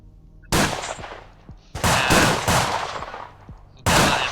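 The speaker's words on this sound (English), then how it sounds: "And Bella is firing at a goblin." Gunfire sound effect played during a tabletop role-playing game session, with sharp loud bursts of rapid shots in three clusters separated by brief pauses, alone without talking.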